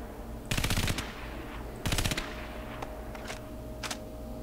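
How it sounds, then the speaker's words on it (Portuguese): Bursts of automatic gunfire from a weapon in a CryEngine 3.6.3 game demo: two loud rattling volleys about a second apart, followed by a few fainter single cracks over a steady background hum. "Faz um barulho quando atira."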